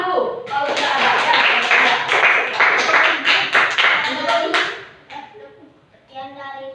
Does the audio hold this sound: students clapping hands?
yes